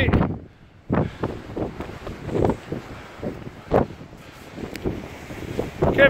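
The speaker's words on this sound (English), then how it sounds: "It's a bit windy." Strong gusty wind at the summit of Crookrise Crag, buffeting the microphone in loud irregular bursts and roars with brief lulls.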